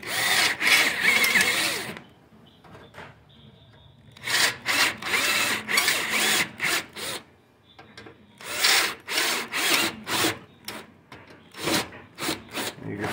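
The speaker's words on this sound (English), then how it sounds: "So we'll drill these out." Power drill boring out rivets in the metal case of a Dell OptiPlex 9020 computer, in repeated loud bursts of grinding and whirring separated by short pauses, close up.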